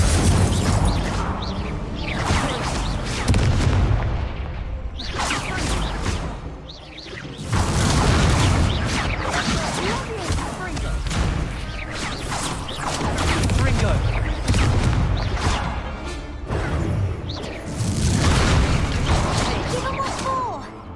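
The Incendio fire spell is cast in Hogwarts Legacy, giving repeated fiery bursts and booms within a dense, loud mix of combat effects and game sound that barely lets up.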